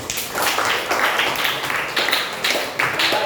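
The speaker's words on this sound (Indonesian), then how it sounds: "Bagus, beri tepuk tangan untuk dua orang ini." A classroom of students claps for two classmates with close, brisk, continuous applause that stays loud and even throughout the short burst.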